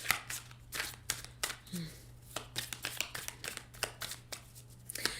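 Tarot cards are shuffled repeatedly by hand, giving a steady series of crisp riffling bursts up close, with a low steady hum underneath and a brief voice partway through.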